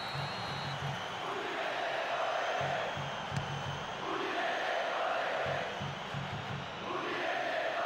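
A stadium crowd in the football video game Pro Evolution Soccer 2013 roars and murmurs continuously during an Udinese versus Atalanta match, with rising swells of cheering over a low, pulsing chant.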